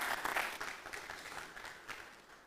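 Audience applause at an agriculture pitch day event, a soft, dense wash of many hands clapping, fairly distant and quiet, fading slightly toward the end.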